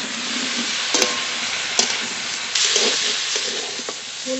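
Cauliflower frying in a pan with salt and turmeric, stirred with a utensil: a steady close sizzle with sharp scraping and clinking strokes at irregular moments, no voices.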